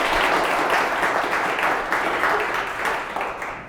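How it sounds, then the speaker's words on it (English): Audience applause after a startup pitch for My Dealer Service during a UX review session: dense, continuous clapping from a group, steady and fairly loud, easing slightly near the end. "Let's have a round of applause for My Dealer Service."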